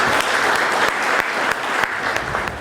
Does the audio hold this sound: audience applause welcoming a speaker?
yes